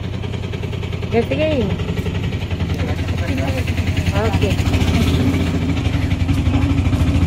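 An auto rickshaw engine runs with a steady low hum beneath nearby talking throughout the ride.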